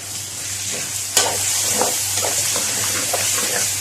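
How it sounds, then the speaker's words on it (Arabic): A spoon stirs pasta sauce with meat, onion and a little pomegranate molasses in a hot pan, giving a steady close sizzle broken by soft scraping strokes. "وشويه دبس رمان، مش هكتر، شويه صغيرين جدا. وهقلب تقليب"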